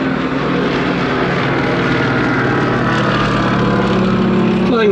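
A Consolidated Catalina flying boat drones overhead at the Duxford Battle of Britain air show, its piston engines giving a loud, steady roar that holds for the whole stretch without fading.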